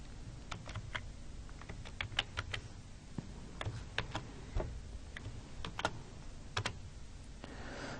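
Rapid typing on a computer keyboard, crisp close key clicks in uneven bursts with short pauses, ending with a firmer keystroke like Enter; no voices.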